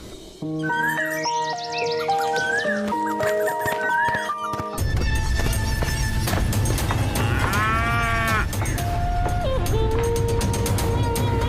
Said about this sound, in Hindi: गौरी जब भी घास चरकर आती तो रंभाते हुए भगवान को याद करती।